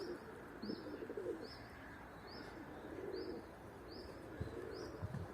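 Pigeons outdoors give faint, evenly spaced calls repeated about every half second over a soft background of outdoor noise.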